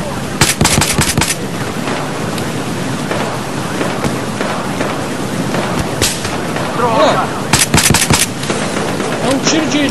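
Battlefield Hardline gunfire rattles in fast automatic bursts and scattered single shots, loud and close at the start and end with a busy mix of game noise between.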